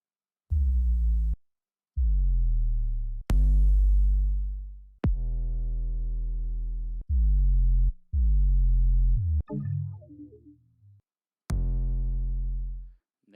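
Fat sub bass synth samples meant for drum and bass, halftime and trap: a series of deep, sustained low tones, some gliding downward, played one after another with short gaps, loud and alone.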